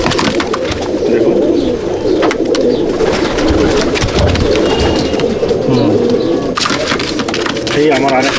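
Pigeons, including a black pair of Madrasi breed birds, coo throughout in a pigeon loft, producing a dense, continuous, close murmuring with someone talking over them.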